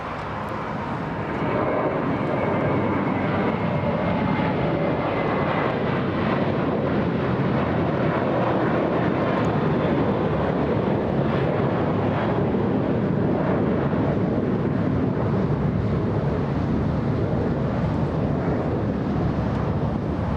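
An American Airlines jet takes off from LAX for New York JFK, with sustained, heavy engine roar swelling in after a quieter opening second and staying loud and broadband throughout, with no talking.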